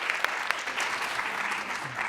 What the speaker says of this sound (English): Another round of applause for Mosaic Harmony.